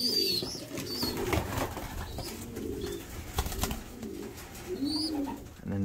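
Young pigeons cooing softly in a loft, repeated low throaty coos with occasional wing flutters and faint chirps, close by with no talk.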